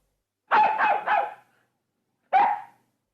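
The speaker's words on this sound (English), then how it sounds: "Nana looks at the sky and barks." A dog barks in a storybook scene set in a garden at night: a quick run of three close barks, a pause, then one more single bark, fairly loud and near with no talking.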